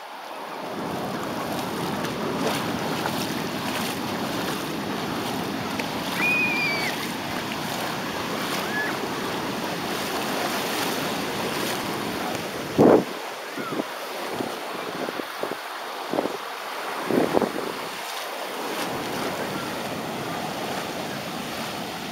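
Pacific Ocean surf rolling onto Playa Reyna beach at Mariato, Panama, a steady roar of breaking waves with heavy wind buffeting the microphone, then a few sharper splashes and gusts near the end.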